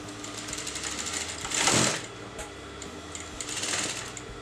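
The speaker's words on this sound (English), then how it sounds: "you're going to sew the outer edge." A sewing machine stitches the outer edge of a canvas neckline for a kameez or kurti, running steadily with two louder surges of stitching, close and alone.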